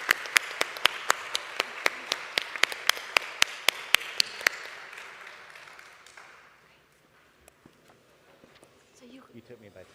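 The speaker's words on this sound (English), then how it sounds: "A round of applause for our speakers." A conference audience applauds its speakers; sharp, regular claps stand out over a wash of crowd clapping that fades after about five seconds, leaving quiet room sound and a little distant talk at the end.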